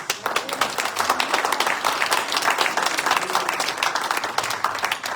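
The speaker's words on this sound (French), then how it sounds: "Est-ce qu'on peut leur donner une bonne main d'applaudissement?" A church congregation claps for Louise and Michel Charbonneau, brisk, close, continuous applause from a moderate crowd, fairly loud and steady, with no talking over it.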